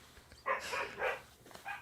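A dog barks three times in short, fairly faint bursts indoors, with quiet gaps between them and no talk.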